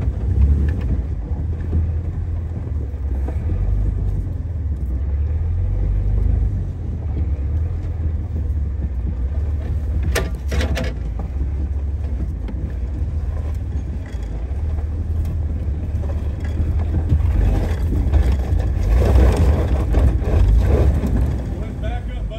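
A stock Jeep TJ crawls over rocks at night in first gear and low range, its engine a low, steady rumble with occasional knocks and scrapes, accompanied by wind noise and voices talking nearby.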